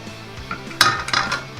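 A lid is set down onto a cooking pot while couscous cooks, giving a sharp metallic clink followed by a short rattle and settling clatter, close and fairly loud in a quiet kitchen.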